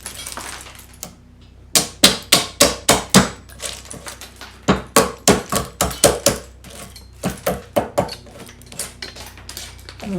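Sharp, hard knocks ring out in quick series as waste wood is hammered out between saw kerfs while building a wooden tool chest, with about twenty close, percussive strikes in uneven bursts and brief pauses.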